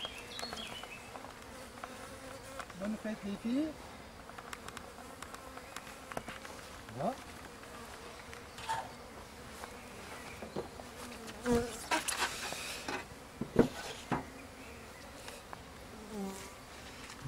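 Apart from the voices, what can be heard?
honeybees buzzing around hive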